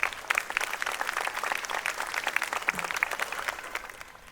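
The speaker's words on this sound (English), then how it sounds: "May we have a huge round of applause for our sports persons" Audience applause for the student athletes at a school annual day, a steady wash of many hands clapping with sharp individual claps, fairly distant and tapering slightly toward the end.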